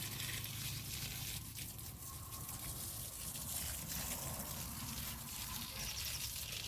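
Water flows steadily along the ground to grapevines in a vineyard, a continuous soft trickling wash that stays even throughout with no talk.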